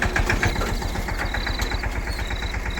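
A tractor engine runs steadily close by in darkness at night, a continuous low diesel chug with a rapid regular throb and a faint high whine above it, with no talking.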